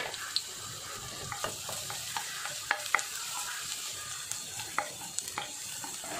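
Garlic frying in a little olive oil, a faint, steady sizzle broken by frequent soft clicks and scrapes of stirring, with no voices.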